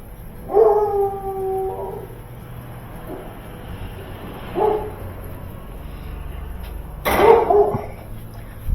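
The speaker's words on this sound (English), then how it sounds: "What are you barking about?" A dog gives a drawn-out howling yelp, then a couple of short barks and a sharp louder one, fairly close, with quiet background hum.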